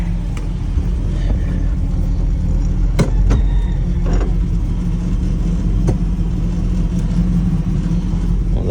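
A 1959 Chevrolet El Camino engine idles cold with a steady low rumble, while a few sharp clunks and knocks come through as it is shifted into gear, with no talking.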